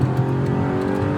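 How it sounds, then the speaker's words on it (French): A car engine roars steadily at high revs, loud and close, a deep throaty drone holding without a break. "Le moteur est vraiment survitaminé."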